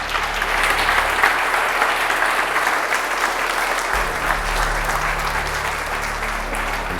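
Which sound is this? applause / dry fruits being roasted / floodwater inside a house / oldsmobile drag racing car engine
applause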